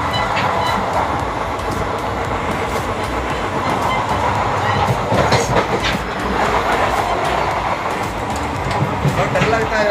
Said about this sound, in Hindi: बहुत लंबी ट्रेन है, इसका नाम है CSMT, शायद मुंबई एक्सप्रेस कुछ ऐसे करके।